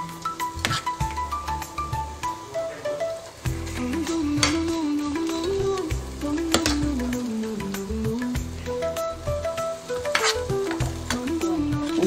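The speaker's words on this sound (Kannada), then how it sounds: "ಈಗ ಅನ್ನ ಹಾಕಿದ್ಮೇಲೆ ಇದನ್ನು ಚೆನ್ನಾಗಿ ಮಿಕ್ಸ್ ಮಾಡಬೇಕು." Cooked rice is stirred into tangy raw mango gojju in a hot pan for mango chitranna. Steady sizzling runs under repeated scraping and clattering stirs, close and moderately loud, with no voices.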